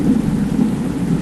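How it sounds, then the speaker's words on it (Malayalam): Heavy rain drums on a car during a drive, a dense steady low roar filling the cabin without breaks and with no talking over it. "നല്ല മഴയാണ്."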